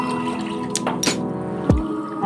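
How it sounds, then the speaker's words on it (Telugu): Coconut milk pours from a glass into a pot of rice, heard as a few short splashes and drips at close range, quiet and alone, ending in one heavier glug. "అందులో 3 గ్లాసులు ముందుగా తీసి పెట్టుకుని కొబ్బరి పాలు పోసుకుంటున్నానండి"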